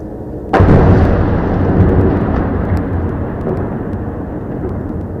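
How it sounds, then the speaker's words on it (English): Israeli artillery fire plays back from video footage: a sudden loud boom gives way to a long, heavy rolling rumble that slowly fades, with no talk over it. "Why the Israeli are shooting in the direction where the camera is not there?"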